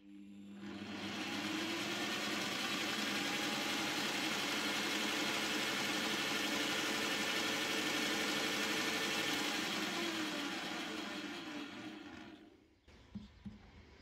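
A Graphite 58G789 1800W double paddle mixer runs in second gear at minimum electronic speed, a steady, even motor hum that holds for about twelve seconds before winding down and stopping, followed by a few faint knocks.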